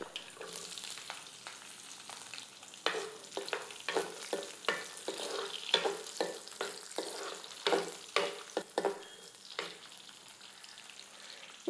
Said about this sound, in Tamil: எப்படி பொரியுதுன்னு பாருங்கள் கடுகு பொறிஞ்சாப்புல பொரியிற